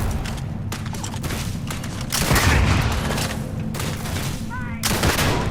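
Explosive rounds fire in a Starfield gunfight, a dense burst of loud, rapid shots with booming blasts that swell midway and again near the end.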